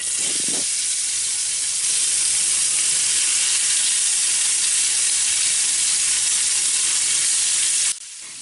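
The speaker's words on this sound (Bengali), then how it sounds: "তো মাছগুলো আমি ফ্রাই করে নেব এখন" Fish fry in a pan with a loud, constant hissing sizzle that holds steady for several seconds before cutting off abruptly near the end.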